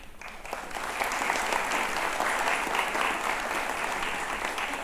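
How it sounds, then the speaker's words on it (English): Steady applause from a sizable crowd at a school event, a dense wash of clapping that swells quickly and holds at an even level throughout. "Hands for applause for Ms. Catherine Fidelis Amri."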